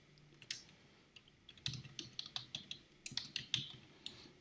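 Someone types on a computer keyboard, giving a quiet run of quick, irregular key clicks up close. There are brief pauses between bursts.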